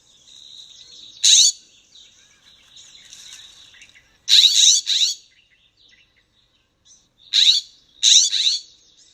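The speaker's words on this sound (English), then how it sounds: "the way the bird actually sounds in this recording" Bird song of a brilliant blue bird, several short bright chirp bursts in separated groups over a faint high insect-like trill, fairly close and alone.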